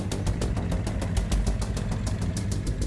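A motorbike engine runs steadily close by, a low continuous rumble with a fast regular ticking pulse throughout, no voices over it.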